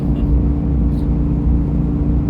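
A pickup truck towing a 35-foot fifth wheel trailer drones steadily from inside the cab, a loud constant low engine and road rumble on an early-morning highway ride through Oregon's Blue Mountains.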